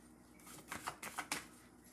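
Tarot cards being shuffled and pulled from a deck, a quiet run of close papery flicks and slaps clustered in the middle, with a faint background hush and no talking.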